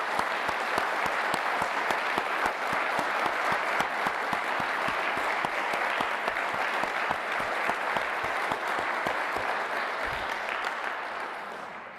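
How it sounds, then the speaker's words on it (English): Sustained applause from an audience during a formal speech by the Secretary of State, many hands clapping in a dense, steady roar that slowly fades near the end. "Mr. Hardy, please stand and let's give him a round of applause."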